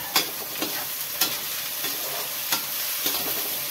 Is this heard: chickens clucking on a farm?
no